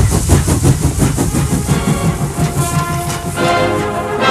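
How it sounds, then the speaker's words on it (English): A Beyer Garratt steam locomotive on the South Eastern Railway in India runs with loud, rapid rhythmic chuffing over a heavy mechanical rumble, close and steady throughout. "Beyer Garratt engine, the world's biggest locomotive east"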